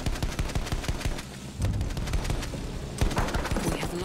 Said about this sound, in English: Enemy artillery nearby, get moving!